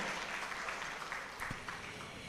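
A convention audience at the national Pranata Humas public relations gathering applauds, producing a broad, continuous wash of clapping from many people in a large hall, steady and somewhat distant.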